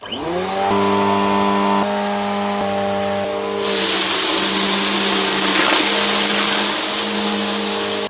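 A Bissell CleanView 4438 Pet vacuum cleaner whirs up with a rising motor whine, then roars loudly and steadily as it runs across carpet on the medium height setting.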